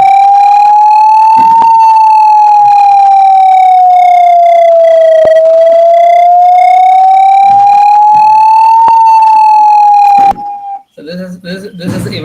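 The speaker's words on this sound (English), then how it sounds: "then we generated a siren" A clean electronic siren tone synthesized in MATLAB, sweeping slowly up and down in pitch, loud and steady, cutting off abruptly before a brief voice.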